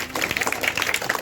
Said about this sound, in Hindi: ताली बजाओ महादेव का बाबा